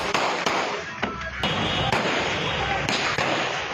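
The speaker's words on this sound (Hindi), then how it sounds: "अली अमीन गंडापुर ने मुबैना अवामी एहतजाज पर हवाई फायरिंग कर डाली" Repeated sharp gunshots fired into the air at a street protest in Azad Kashmir crack out in quick irregular bursts over a loud, noisy crowd.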